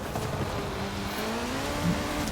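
Car braking in the racing video game Forza Horizon 4, during a seasonal cross-country event with a VW GRC Beetle: a steady engine drone carries throughout, with a brief tire squeal near the end.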